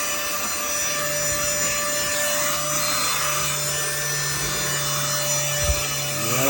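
A cheap handheld car vacuum cleaner runs with a steady, close whirring motor drone and a faint whine, plus a few rubbing and scraping sounds as it moves over a surface.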